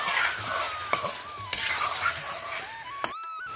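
Shrimp frying in a pan sizzle steadily while a utensil stirs them, with occasional sharp clinks of metal against the pan, close by and without speech.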